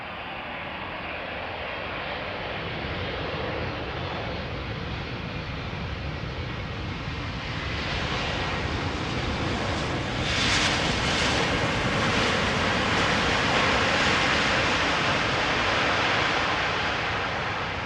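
Airliner engines roar at Amsterdam Schiphol Airport as a continuous broadband rumble that grows slightly louder partway through, with no talking.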